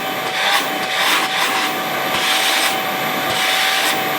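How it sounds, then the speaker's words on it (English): A Milwaukee 0920-22HD cordless vacuum with a brushless motor runs at full suction, giving a steady, close airy whir with a constant high motor whine and slight fluttering as air is drawn through. "You hear that brushless motor?"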